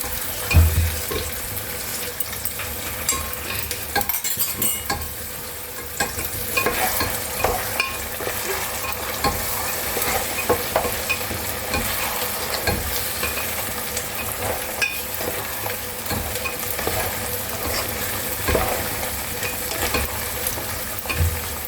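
Mutton korma cooks in a pan after a paste of cashew, peanut and yogurt goes in, giving a steady sizzle with repeated stirring and scraping throughout.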